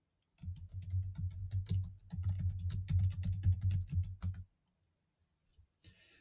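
Rapid typing on a computer keyboard, a dense run of close, crisp key clicks lasting about four seconds, followed by silence and a few faint final taps.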